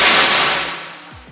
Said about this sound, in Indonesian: Tembakan yang kelima